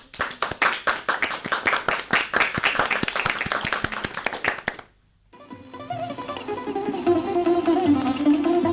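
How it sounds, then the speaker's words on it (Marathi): Schoolchildren at a Zilla Parishad school in Hanumannagar, Mirjole clap for themselves in a brisk burst of many hands lasting about five seconds, then it stops abruptly and music begins. "सगळ्यांनी टाळ्या वाजवा बघू स्वतःसाठी."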